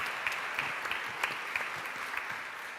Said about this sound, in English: let's give a big round of applause for Laurian,